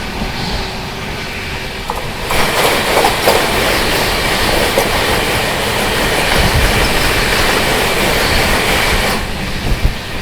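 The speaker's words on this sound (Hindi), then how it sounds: "वंदे भारत एक्सप्रेस की क्रॉसिंग अभी देखने को मिली" Passenger train running at speed as the Vande Bharat Express crosses the Mumbai Rajdhani Express, heard from on board: a loud continuous rumble with rail clatter and a rushing surge in the middle as the other train passes.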